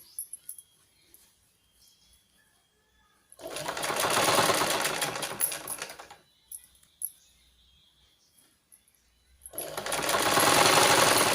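A sewing machine stitches a fabric seam in two loud, close bursts of rapid needle clatter. Quiet pauses with faint handling noises separate the bursts.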